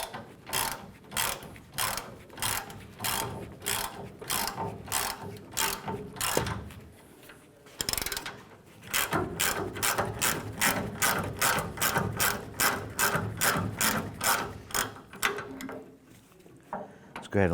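A hand ratchet loosens a tailgate hinge bolt on a Ford Ranger, with fast, rhythmic clicking in close bursts, a brief pause midway, then a longer run of clicks.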